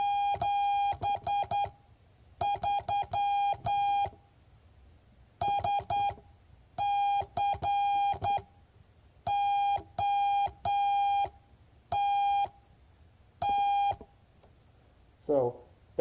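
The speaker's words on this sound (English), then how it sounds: "Just like you basically have like a true 5 words a minute, it would sound like this." Morse code sent at 5 words per minute as clean, clear electronic tone beeps in groups of short and long elements separated by pauses, loud and alone, with a brief noise at the very end.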